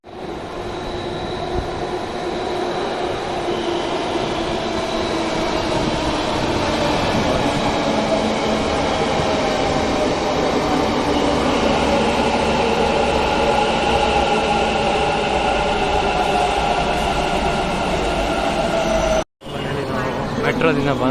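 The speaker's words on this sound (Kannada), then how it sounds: "ಫಸ್ಟ್ ಟೈಮ್ ಮೆಟ್ರೋದಲ್ಲಿ ಬರ್ತಾ ಇರೋದು" A Bengaluru metro train hums along with a loud, continuous rumble and rising and falling motor whine. Wheel noise runs beneath it, with faint voices and a brief dropout near the end.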